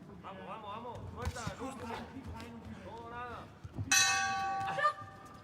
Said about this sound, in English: Well, there goes the bell